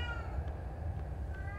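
A pet cat meows a few times, close and moderately loud over a steady low background hum, the cries drawn out and tonal.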